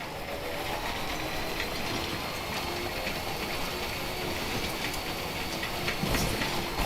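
Timefall rain in Death Stranding, a steady dense hiss of rainfall that stays even and close throughout without a break, with no one speaking.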